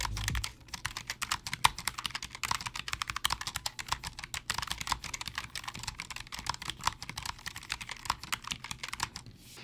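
Steady, rapid clicking of keys on a Logitech G915 TKL wireless gaming keyboard, fairly close and continuous, with fast irregular keystrokes throughout and no talking.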